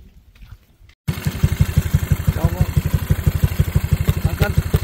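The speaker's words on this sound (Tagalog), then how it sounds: "ang lakas ng motor na to." A scooter-type motorcycle engine starts up abruptly and runs steadily nearby with a fast, even pulsing throb, loud and continuous after a brief quiet moment at the start.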